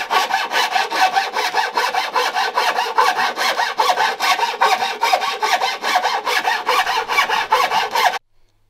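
Steady back-and-forth rasping of a file or saw on a wooden board for a van cooktop build, loud, close and continuous for about eight seconds before stopping abruptly.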